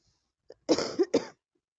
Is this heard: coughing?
yes